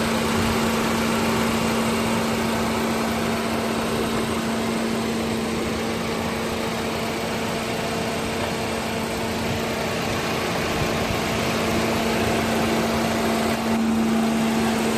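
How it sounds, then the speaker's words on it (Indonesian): A Mitsubishi Xpander Cross with about 21,000 km idles smoothly and steadily with a constant low hum and faint vibration, close by, with no voices. "Nah, ini dia kondisi mesin hidup ya"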